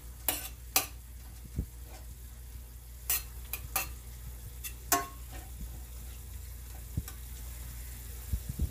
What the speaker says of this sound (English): So we have to mix well and make sure to break the big chunks of beef.